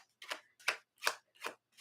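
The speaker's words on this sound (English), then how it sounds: "I don't even know why I'm still shuffling that deck." A deck of playing cards being shuffled, five quick riffling bursts in an even rhythm with short pauses between, close and clear with no talk.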